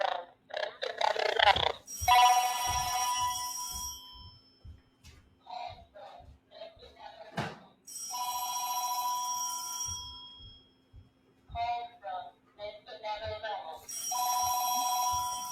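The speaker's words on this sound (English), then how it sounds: "Phone is ringing." A telephone bell rings in three long bursts separated by pauses, with a voice talking in the gaps between rings.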